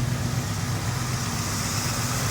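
A 1980 Chevrolet El Camino with a 5.7 liter engine and turbo mufflers idles steadily, a low, even rumble with a constant hiss and no revving, heard close up with no one speaking.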